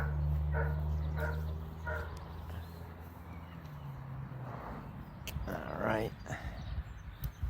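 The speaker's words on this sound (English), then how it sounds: "He wasn't barking until he heard me talking." A dog barks a few times in short bursts amid a steady low hum and background activity, with some muffled talking nearby, during a roof rack installation on a 2026 Ford Transit van.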